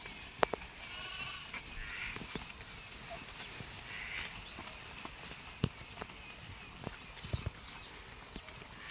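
Faint sheep bleats come from a distance over a quiet outdoor background, mixed with scattered soft knocks and hoof-like taps.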